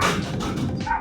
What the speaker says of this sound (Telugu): ఇది వర్కింగ్ జర్మన్ షెపర్డ్ అంటారు